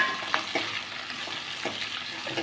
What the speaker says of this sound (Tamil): வெங்காயம் போட்டு வதக்கிட்டு கொஞ்சம் உப்பு போட்டு வதக்கிக்கலாம்.